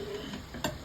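A spoon stirs dal in a cooking pot with a soft scrape and a brief louder clatter, over a faint sizzle.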